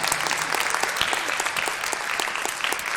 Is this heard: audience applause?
yes